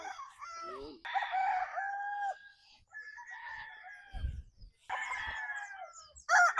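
Roosters of the RB Stag and Paul Spark Gray gamefowl lines crow repeatedly nearby, with several overlapping cock-a-doodle-doos and a few brief clucks between them.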